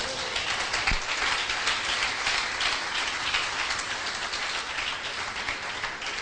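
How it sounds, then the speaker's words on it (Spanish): A church congregation applauds, a broad, steady hiss of many hands clapping together with one sharp knock near the start, sustained and fairly loud with no voices. "Den un aplauso fuerte al Señor."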